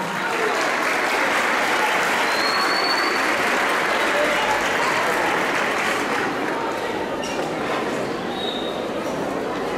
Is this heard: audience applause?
yes